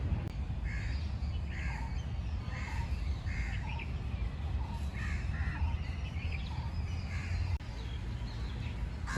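Crows caw repeatedly in a garden in Delhi, a steady series of harsh calls about every half second over constant background rumble from the surroundings.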